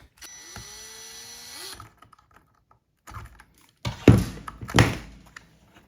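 A resettable fuse being taken apart from a salvaged broken power tool, with a brief high whine, then scattered clicks, knocks and two louder plastic thunks close by, no talking.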